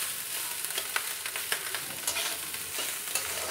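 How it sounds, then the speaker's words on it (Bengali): Eggs fry in a pan with a continuous close sizzle, broken by sharp scraping and clicking strokes as they are stirred; nobody speaks. "এবার ডিম দিয়ে ভাজা ভাজি চলছে"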